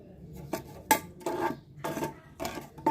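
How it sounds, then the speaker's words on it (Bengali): A spoon clatters against a pot while ingredients are mixed with sugar before the stove is lit, giving a few sharp, close metallic knocks and scrapes in an irregular rhythm. "চুলা না ধরে এগুলো মিশিয়ে নিতে হবে খুব ভালো করে"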